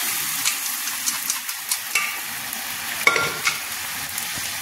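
Lentils and narasingha leaves fry in hot oil with panch phoron, a loud close sizzle broken by repeated scraping stirs and one sharp clatter of utensil against pan.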